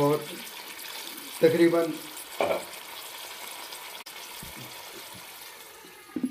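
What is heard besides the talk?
pouring one litre of water into mutton chaap karahi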